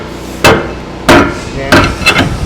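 Four sharp hammer taps, closely spaced and fairly loud, the last two coming in quick succession.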